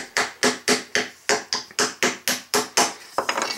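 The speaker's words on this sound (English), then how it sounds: "So I'm going to use my little hammer because, like I said, these cans are a little thicker." A small hammer taps a punch through a thick Arizona aluminum drink can, about a dozen sharp, evenly spaced metallic knocks, close and clear with no talk.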